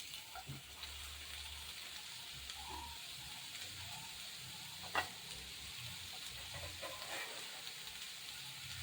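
Three onions sautéing in hot oil for a chicken roll filling give a steady, close sizzle, with a low rumble underneath and a few soft scraping stirs and one brief knock midway.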